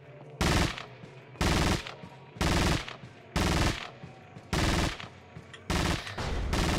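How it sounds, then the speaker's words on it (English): Bursts of automatic gunfire in Resident Evil 4 Separate Ways, seven loud rapid volleys evenly spaced about a second apart with quieter gaps between. "I need these gunshots to stop."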